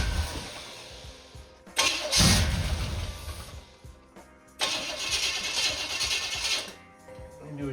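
An abandoned engine of unknown history, mounted on an engine stand, cranks over in two loud, sustained starting attempts, each a few seconds long with a short gap between, close up.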